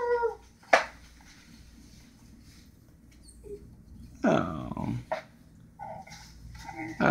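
A dog whimpers and cries in short, high, pleading bursts at close range, separated by quieter stretches, while people talk softly nearby.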